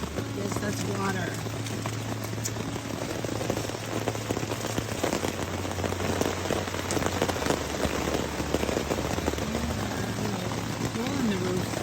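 Steady rain patters on the roof of a Vermont trail shelter, a dense continuous hiss of drops close overhead, with a low hum and occasional voices underneath.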